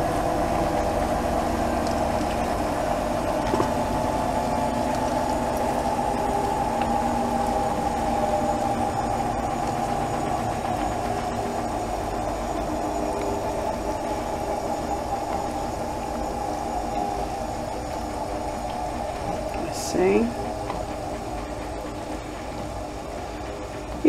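Food frying in a pot with parsley while being stirred, a steady low hiss and hum close by with an occasional scrape of the spoon, fairly constant throughout with no talking.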